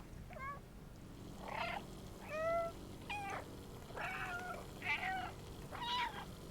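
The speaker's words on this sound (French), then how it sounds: "et là on miaule" A cat character in a video game meows six times in short, bright, rising cries spaced about a second apart, loud over a low steady background hum.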